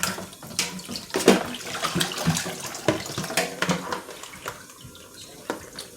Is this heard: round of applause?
no